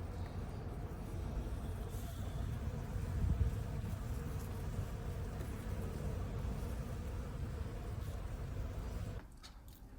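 Honey bees buzz around an overwintered swarm hive, a steady, dense hum that carries at even strength and drops away abruptly in the final second.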